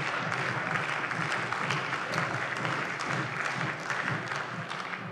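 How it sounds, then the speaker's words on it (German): Steady applause fills a parliamentary chamber, a dense even wash of clapping from many hands that holds for several seconds without a break. "Applaus"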